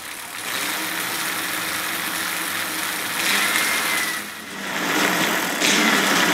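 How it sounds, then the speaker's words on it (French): A recent electric motor spins the wheel of a 1960 Peugeot 101 moped retrofitted from petrol, producing a steady close whine that rises in intensity a few times, with no talking. "on a un moteur électrique récent qui fait tourner la roue d'une mobilette de 1960"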